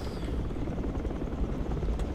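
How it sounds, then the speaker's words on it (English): A helicopter in the military shooter game Project Reality drones with a steady, dense rotor and engine roar heard from inside the cabin, continuous and close with no talking. "we're kind of stuck in the helicopter"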